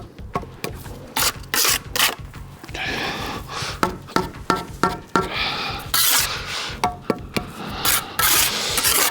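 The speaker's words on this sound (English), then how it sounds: "So I shove it in and I rub it down. Keep rubbing it right until you get it right down to the line." Mortar joint being rubbed down with a tool while bricking up a window, a series of short scraping and rasping strokes in an irregular rhythm, close and fairly loud.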